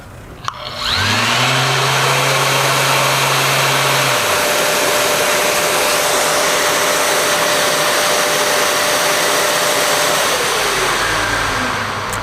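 An electric sander runs on cured epoxy at reduced speed, a loud steady motor whine that dips in pitch as the speed steps down, then holds a constant drone for several seconds before winding down.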